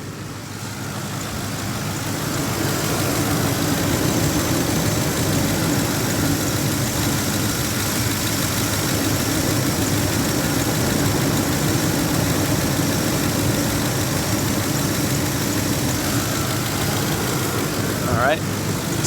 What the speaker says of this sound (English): Let's look how the engine sounds now.